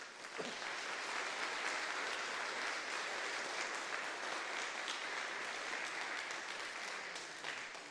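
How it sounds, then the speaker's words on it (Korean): A church congregation applauds to welcome a visiting family, a steady, dense wash of many hands clapping together at moderate distance and sustained evenly throughout, with no talk over it. "우리 박수로 환영하도록 하겠습니다"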